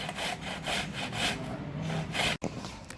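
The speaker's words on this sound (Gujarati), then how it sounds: "આ રીતે છીણીની મદદથી બધું છીણી લઈશું" Vegetables such as carrot, bottle gourd and potato being grated by hand on a grater, giving steady rhythmic rasping strokes close up with no talk.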